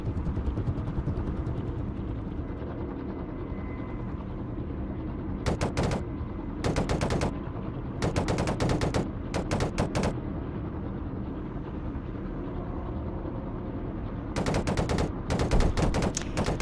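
A machine gun fires from a helicopter at ground targets in repeated short, loud bursts, with gaps between them. The steady drone of the rotor and engine runs underneath the whole time.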